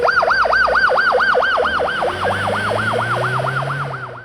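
A police car's siren wails in fast repeated up-and-down cycles, loud and close as the car arrives at the scene of an emergency-response accident drill, with a low engine rumble underneath.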